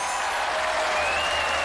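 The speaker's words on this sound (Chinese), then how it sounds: "再次把掌声送给" A studio audience on a Chinese TV job-hunting show applauds a contestant, a short, even wash of steady clapping with no voices over it.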